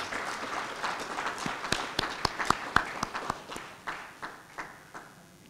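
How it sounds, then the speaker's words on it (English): Scattered applause at a formal plenary ceremony, faint and sparse with a few sharp distinct claps standing out before tapering off. "Let's give them a round of applause"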